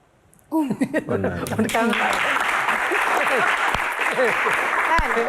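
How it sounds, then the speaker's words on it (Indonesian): A studio audience at a Q&A comedy talk show breaks into loud, sustained applause with some laughter, while voices talk and laugh over the clapping throughout. "Tepuk tangan sekali lagi"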